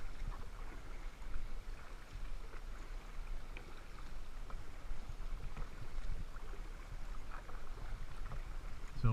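Aquabound Stingray 240 paddle driving a Native Ultimate FX 12 kayak with feathered strokes, soft repeated splashes and water swishes at an even rhythm, faint and close, with no talking.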